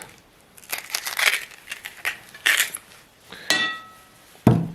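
A knife cuts an onion on a chopping board in a series of crisp, separate crunching strokes, close and fairly loud, ending with a firm knock on the board.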